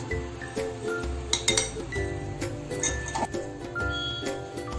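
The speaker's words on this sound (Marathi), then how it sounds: "आता हे आपण मिश्रण एकत्र करून घेतोय" Ground sesame, jaggery and besan flour being stirred together in a bowl, giving a steady run of close clinks and scrapes of a utensil against the bowl with soft rubbing in between.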